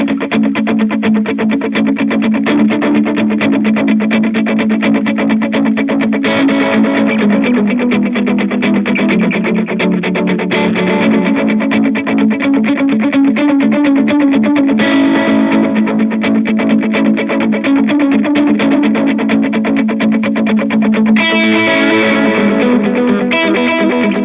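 Electric guitar run through distortion and chorus effects plays the verse of a song with D-chord shapes, a dense, loud and continuous strummed wash of sustained chords with no voices.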